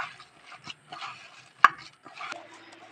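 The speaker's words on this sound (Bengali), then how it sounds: "ওই ডালটা দিয়েই মেখে নিলাম দেখো একটু ভালো করে মাখতে হবে" Hands squish and knead dried small fish with lentils into a kebab mix, soft irregular wet rubs and pats with one sharp knock against a bowl, quiet and close.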